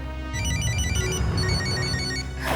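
A telephone rings with a repeating electronic melody of bright tones, close and clear, with no one speaking.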